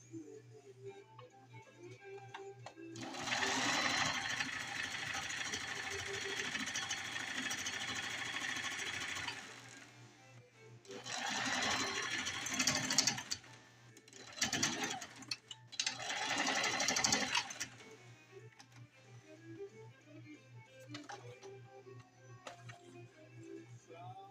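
A sewing machine stitches thick, heavy shop-apron fabric in bursts: one long steady run of about six seconds, then several shorter runs separated by brief pauses, all over a low constant hum.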